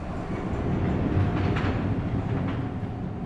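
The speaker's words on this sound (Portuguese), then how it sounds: "conseguimos ouvir apenas o som do metrô se movimentando sobre os trilhos" Subway train rolling along its rails: a continuous low rumble and rattle of wheels on track, steady and moderately loud with faint clacks and brief higher whines along the way.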